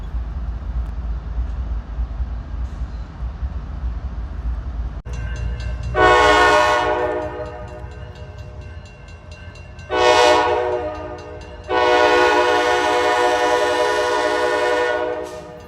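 A CSX or Norfolk Southern freight train rolls into Collier Yard with a steady low rumble and clattering wheels, its horn sounding loud in three blasts, the last one long, with no talk.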